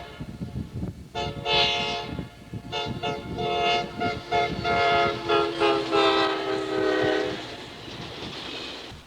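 A Susquehanna railroad train arrives at Corning, New York, on the old Erie main line, sounding a loud multi-tone horn in several long blasts over the rumble and clatter of the train passing nearby.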